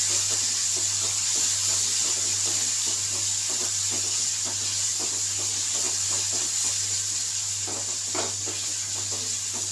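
Garlic and spices sauté in a hot pan for a garlic kuzhambu, giving a continuous bright sizzling hiss with faint scattered stirring clicks and a low steady hum underneath, no talking.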